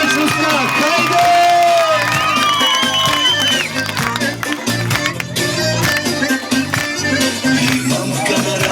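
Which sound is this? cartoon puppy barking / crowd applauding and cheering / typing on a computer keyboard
crowd applauding and cheering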